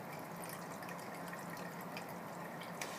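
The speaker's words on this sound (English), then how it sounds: "some water, and I'll fill this up until it says 770." Water pours steadily into a glass coffee pot to fill it, producing a continuous bright splashing trickle with faint drips and no pauses.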